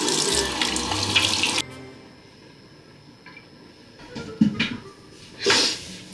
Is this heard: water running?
yes